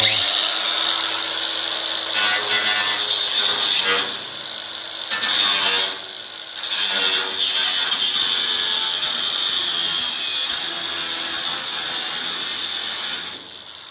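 A power tool cuts metal for a pizza oven door, a loud high whining buzz up close that stops and restarts in several bursts.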